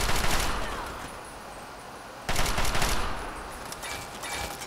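Rapid automatic gunfire in the video game Fallout 3, loud dense bursts of shots aimed at the player, a strong volley at the start and another after a brief lull, with scattered shots trailing after it.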